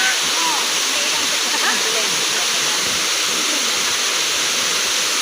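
Kagbuho Falls pours in a steady, loud, broadband roar of falling water that fills the whole stretch without letup, close and continuous.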